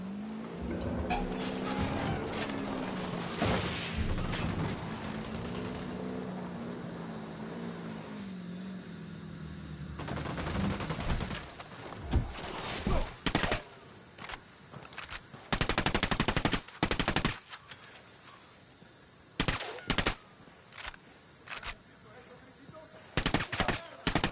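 Video-game gunfire on PS4: a long droning engine or aircraft rumble fades out, then bursts of rapid automatic fire and single shots crack out loudly and close in uneven clusters.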